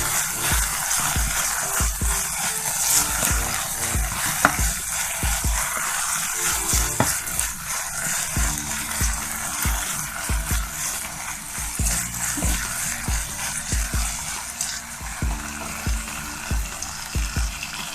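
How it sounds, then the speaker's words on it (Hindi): Masala okra with tomato fries in a pan, giving a steady close sizzle with occasional stirring scrapes and clicks running throughout, no voices over it. "अच्छे से भून लेंगे"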